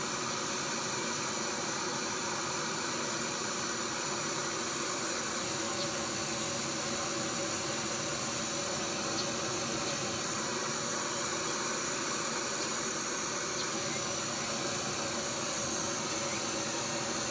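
A small propane camping stove burns outdoors in a breeze, giving a continuous steady roaring hiss that stays even and fairly loud throughout, with no voices.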